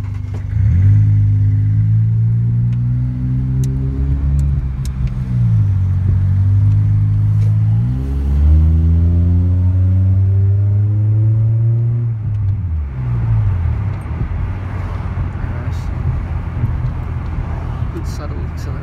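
A car pulls away from a traffic light and accelerates through several gears, the engine note rising and dropping with each shift, loud and close throughout, then settling to steady road noise; no one speaks.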